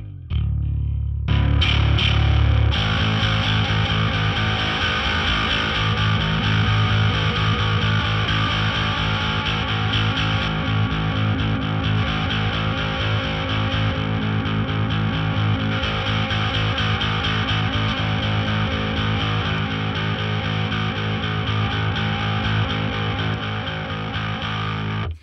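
Heavily distorted bass guitar through a GCI Bad Larry distortion pedal plays sustained, gritty notes continuously, with a buzzing, fuzzy tone filling the whole stretch.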